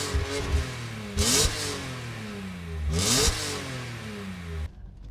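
A BMW M3 E46 engine revs hard as the car accelerates, two sharp climbing pulls each ending in a quick gear change, loud and close, before cutting off abruptly near the end.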